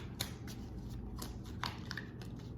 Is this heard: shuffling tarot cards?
yes